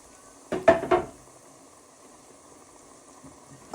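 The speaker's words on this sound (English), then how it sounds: "Now you want to get your beef stock and pour all that in." Beef stock is poured into a hot stir-fry pan, producing two quick close splashing bursts followed by a low, faint simmering hiss.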